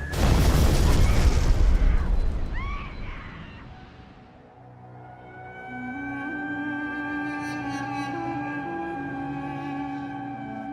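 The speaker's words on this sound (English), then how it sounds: "he tries unsuccessfully to kill the head of the Colombian security service with a car bomb" A car bomb explodes in a 1993 attack on the head of Colombia's security service, heard as a loud, deep, rumbling blast that fades over several seconds. Sustained tonal music follows.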